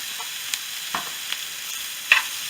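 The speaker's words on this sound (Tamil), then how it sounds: "மஷ்ரூம்லாம் நல்லா வதங்கிடுச்சு." Finely chopped mushrooms sauté in a pan for paniyaram, a soft steady sizzle broken by a few light scrapes of stirring, close and moderately quiet, no voices.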